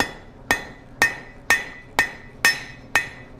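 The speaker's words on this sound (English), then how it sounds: "Let's bring it to the anvil. I'm going to do some half on, half off blows." Blacksmith's hammer blows on hot steel over an anvil, seven sharp ringing strikes at an even half-second pace, loud and close, each ringing briefly before the next, with no talk.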